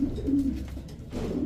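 A Pakistani teddy damascene racer pigeon being handled gives soft, low coos close by, two short bursts separated by a brief pause.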